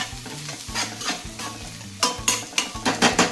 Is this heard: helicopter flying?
no